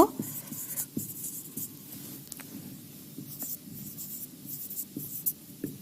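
Pen or marker writing on a board during a class six maths lesson, with soft continuous scratching and small taps as strokes are made, close and fairly quiet, no speech.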